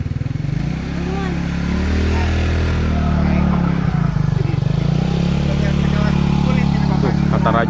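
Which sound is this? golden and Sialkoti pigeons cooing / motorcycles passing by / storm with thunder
motorcycles passing by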